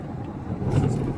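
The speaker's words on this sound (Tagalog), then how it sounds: "Motor." A motorcycle passing on a road near Liloan, Cebu, its engine swelling briefly as it goes by at moderate distance over general traffic rumble.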